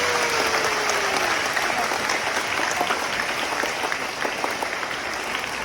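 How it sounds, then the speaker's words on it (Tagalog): A church audience at a high school Mass applauds steadily throughout, a dense wash of clapping from many hands with a faint murmur of the crowd underneath. "Lahat ng gusto na siya umunlad, pumalakpak ng lahat."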